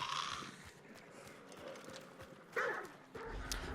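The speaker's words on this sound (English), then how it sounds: "Okay, I've set the dogs off like an absolute moron." Dogs in the video game Hunt: Showdown set off barking, with faint, distant yaps rising briefly near the end over quiet footsteps and ambient game sound.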